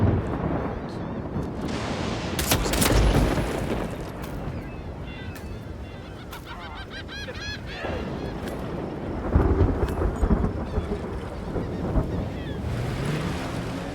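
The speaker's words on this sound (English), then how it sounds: "Luckily the storm's masking the sounds." A storm in the Hitman video game roars as dense broadband wind and rain with rumbling swells, loud and continuous for fourteen seconds, with scattered game noises and some muffled talk mixed in.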